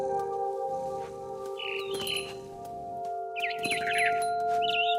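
Bird chirps from the video game What Remains of Edith Finch come in two short bursts of bright calls over a steady, sustained tonal backdrop, with no talking.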